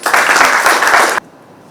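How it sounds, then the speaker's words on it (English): An audience at a Rotary district gathering bursts into loud, close applause for the club president. The clapping runs steadily for just over a second, then cuts off sharply to quiet room tone. "Please give him a round of applause."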